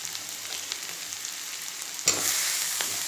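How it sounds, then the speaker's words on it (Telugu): Eggplant pieces sizzle and fry in a pan for Telugu eggplant and drumstick curry, a steady hiss that jumps louder as a fresh batch lands, with scraping stirs breaking through. "వంకాయలు వేస్తున్నాను."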